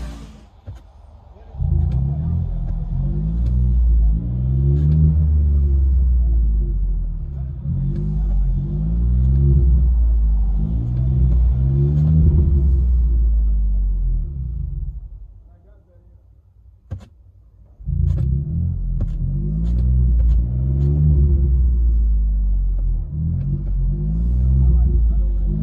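Inside the cab of a Ford F-150 PowerBoost hybrid with a Black Widow exhaust, a low muffled engine rumble surges in repeated rev cycles, dropping briefly to near silence midway before resuming, with faint clicks.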